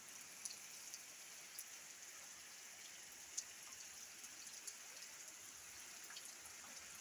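Light morning rain falls steadily, making a soft, even hiss with faint scattered drips, quiet and continuous with no voices.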